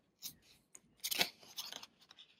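Scissors snip through paper for a handmade stamped celebration card, a few quiet, brief cuts in an irregular rhythm, close and faint with no voices.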